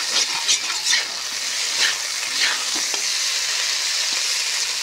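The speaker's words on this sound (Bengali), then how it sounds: "পটলটা ভাজি হয়ে যাচ্ছে" Pointed gourd slices frying in a pan give a continuous close sizzle and hiss, with a few soft stirring clinks early on; no one speaks.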